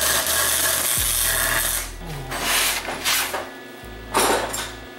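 Short crackling, buzzing bursts from tack welding a transmission mount onto a home-made 212cc motorcycle frame with a lawn mower transmission, separated by a steady low hum, with no talking.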